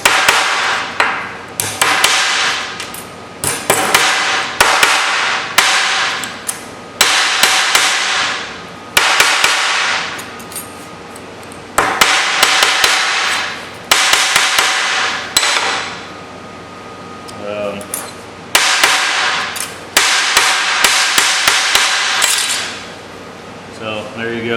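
A hammer pounds a curled sheet-metal trunk patch flat, loud metallic blows falling in rapid bursts of several strikes separated by short pauses, ringing close up throughout.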